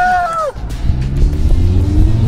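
A car engine switched into sport mode, its deep, rumbling drone swelling and shifting pitch after a brief higher tone cuts off, loud and close with a steady growl.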